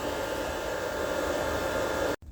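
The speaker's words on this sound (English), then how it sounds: "then I'm going to put the dryer in one of the holes to dry the tank out" A hair dryer blows steadily into a 1994 Honda Goldwing Aspencade motorcycle fuel tank to dry it, a constant close airy whoosh that cuts off abruptly near the end.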